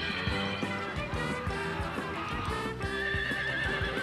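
A horse neighs amid steady, rhythmic background music, in a stretch with no voices.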